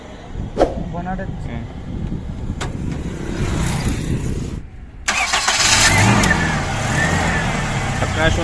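A used Japanese Toyota Noah car engine cranks and starts up close, the startup whine and rising engine roar filling the second half after a brief gap, with voices talking over it.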